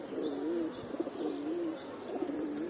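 Pigeons in a loft set out in the morning sun coo in soft, rhythmic repeated phrases, close and gentle, with a few light chirps and no talking.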